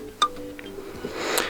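A wine cork notification tone on a Samsung Galaxy Watch 4 plays as a short, bright pop-and-clink chime, brief and fairly quiet, with a second glassy ring near the end.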